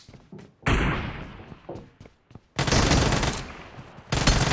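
Gunfire rattles in a video game arena match, with loud close bursts of rapid automatic shots broken by short pauses and isolated thuds.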